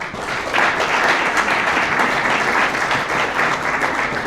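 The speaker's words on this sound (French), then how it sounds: "Vous pouvez les applaudir." A crowd applauds continuously at a football trophy ceremony for the Normandy National 3 league, honouring award-winning players, with dense, steady clapping that rises quickly and holds at full strength throughout.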